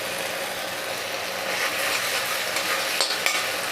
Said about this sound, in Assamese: এতিয়া ইয়াতে মই ৰুকি লোৱা আদাখিনি দি দিছোঁ আৰু এইখিনি অলপ লৰাই দিম